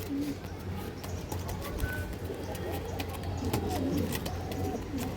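Pigeons for sale at a bird market in Hooghly coo softly through a steady hum of background noise, faint and continuous, with no clear talking.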